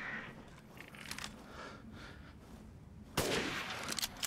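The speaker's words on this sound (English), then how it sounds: "I like shooting things." Gunfire in Resident Evil Village, with scattered dull shots and clatter and then one sharp, loud blast near the end. The blast leaves a brief rumbling tail. No one speaks.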